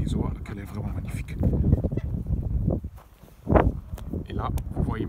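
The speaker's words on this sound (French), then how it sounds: "Et je vous montre encore une dernière fois les poules et les oies," Chickens and geese on a rural farm give off scattered clucks and honks mixed with shuffling footsteps, fairly close, broken by a brief quieter gap before the birds pick up again.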